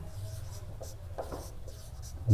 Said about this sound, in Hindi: लिखेंगे यहाँ